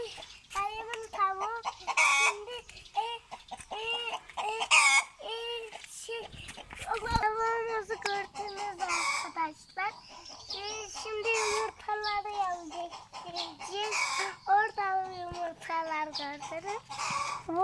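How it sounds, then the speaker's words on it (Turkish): Hens cluck and squawk repeatedly at close range, a busy overlapping chorus with voices talking now and then among them. "bunlar tavuk"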